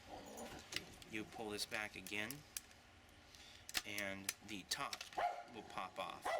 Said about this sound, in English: that's just my dog. She's mad.